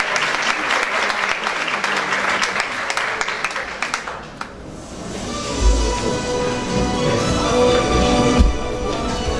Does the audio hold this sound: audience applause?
yes